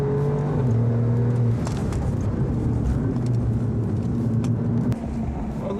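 A 505-hp Alfa Romeo Giulia Quadrifoglio on a track day, its engine droning loudly and close, with the pitch holding steady, then dropping and shifting as the revs change.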